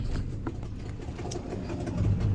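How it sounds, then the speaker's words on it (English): Two boat engines idle and warm up with a low, steady rumbling drone, close and continuous, with faint mechanical ticking on top and no voices. "I got two engines running and heating up now."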